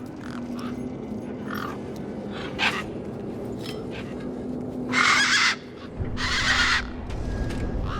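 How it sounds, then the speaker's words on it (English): Tough, crow-like desert birds cawing in the video game Beyond a Steel Sky, several harsh caws in separate bursts over a steady low background hum, one burst louder and nearer than the rest. "These were tough desert birds."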